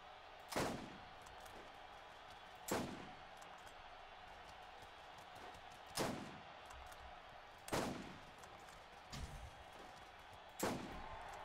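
Sniper rifle shots in the Borderlands video game, about six loud single cracks spaced a couple of seconds apart, each with a short decaying tail, over a steady low game ambience.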